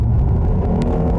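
A Jeep Grand Cherokee L engine accelerates, a loud, close, low rumble heard from inside the moving SUV.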